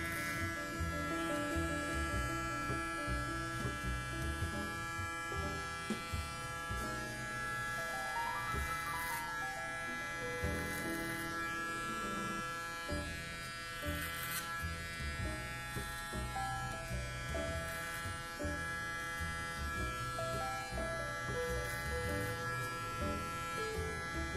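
An electric hair trimmer cuts hair during a professional haircut, giving a steady, continuous buzz at close range with a faint tonal hum throughout.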